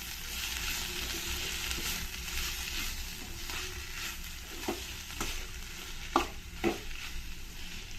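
A spoon stirs amla rice with grated hill gooseberry and coriander leaves in a pan, giving a steady soft scraping and sizzle with a few sharper clinks of the spoon near the end, and no voices.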